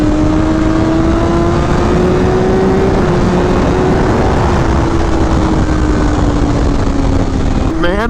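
A BMW M1000RR motorcycle engine holds a steady drone while riding on fresh tires, its pitch drifting gently up and down with strong wind rush over it, and a brief revving rise near the end.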